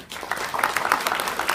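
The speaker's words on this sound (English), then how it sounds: "A round of applause." Applause from an audience at a political forum for city alderman candidates, a short burst of clapping from a crowd at moderate distance.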